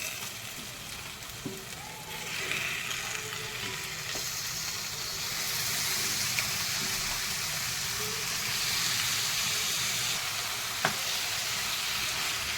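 About three quarters of a kilo of chicken sizzles and fries in oily masala in a home kitchen for a chicken gravy, with a steady, close hiss of frying, occasional scraping stir clicks and no talking.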